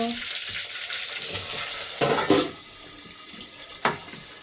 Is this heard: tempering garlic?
yes